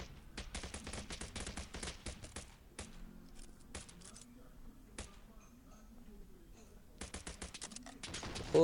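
Gunfire in the battle royale game Battleground's Survivor: rapid bursts of shots cluster in the opening seconds, thin out in the middle, then return in another quick volley, with faint voice-like sound mixed in.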